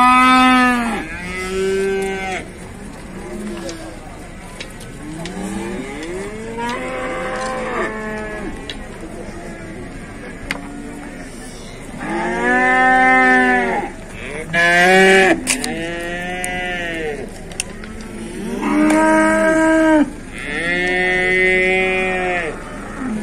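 Calves at a livestock market in Beylagan moo repeatedly, with loud, close, drawn-out calls arriving in clusters, and other animals lowing faintly in the background.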